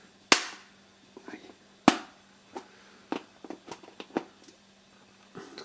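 The plastic courtesy mirror on a 2004 Toyota Avensis sun visor is pried out, giving two sharp loud pops followed by a scatter of smaller clicks and taps, all close up in a quiet space.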